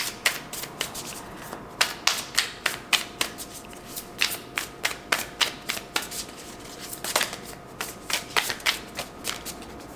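Oracle cards are shuffled close up in quick, crisp bursts of riffling flicks and slaps, repeating steadily throughout against a quiet room with no speech.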